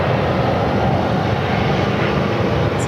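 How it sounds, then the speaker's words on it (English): Boeing 737 MAX 8 jet arriving into Phoenix airport, a loud, steady broadband engine roar that holds close and constant throughout, with no voices. "1324 coming in from Spokane on a 737 MAX 8"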